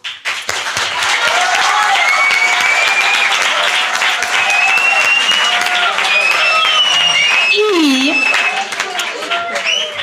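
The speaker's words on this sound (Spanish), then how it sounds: "quiero traer también para un aplauso los trajes" Sustained applause from a school audience honouring the costumes of a twentieth-anniversary 'El Quijote' musical, dense steady clapping filling the whole stretch with crowd noise and a brief vocal whoop near the end.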